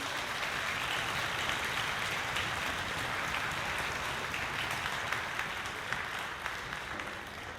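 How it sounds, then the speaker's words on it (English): Audience applause for graduating seniors of a high school symphony orchestra at a spring concert, a fairly soft but steady wash of many hands clapping with a few sharper claps near the end. "Give them a round of applause"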